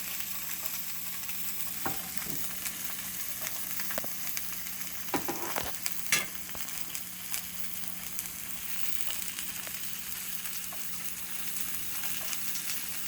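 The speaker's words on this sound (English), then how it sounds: "my oil is nice and hot, I will put my pork into the pan" Pork sears in a hot oiled pan with a steady, close sizzle and crackle throughout, broken by a few brief clinks and scrapes.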